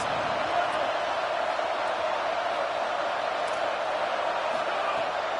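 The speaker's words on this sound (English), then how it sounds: "Listen to this crowd just shaking the girders of this place, trying to help their defense." A huge football stadium crowd roars in a dense, sustained wall of noise, loud and constant throughout with no pauses.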